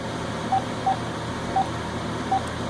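Telephone keypad dialing on a networked desk phone, four short separate tone beeps spaced unevenly over steady low background hum.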